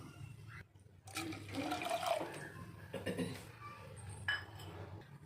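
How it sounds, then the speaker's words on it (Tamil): Beetroot water poured into a kadai for beetroot kesari, a splashing liquid pour with clinks of the pan and utensils, close by, in uneven bursts with a brief pause early on; no speech over it. "இப்போ அதே கடாயில் நம்ம இந்த பீட்ரூட் தண்ணியை இதில் ஊற்றிக்கலாம்."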